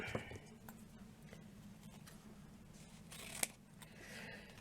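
Scissors cut through folded ribbon while a fancy bow is being made, giving one sharp snip near the start and another a few seconds later. Both cuts are faint and sit over a quiet room hum.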